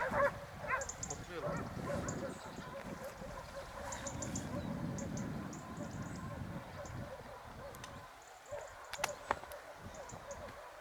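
Hunting dogs barking in the distance during a wild boar hunt in Türkiye, scattered faint yips and barks in open countryside with hunters talking quietly over them.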